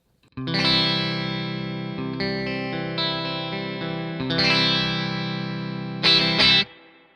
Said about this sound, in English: we're going to go to the middle position to test out the reverb